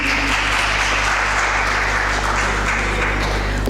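An audience at an English speech competition applauds, a loud, dense and sustained wash of clapping from many hands that holds steady throughout.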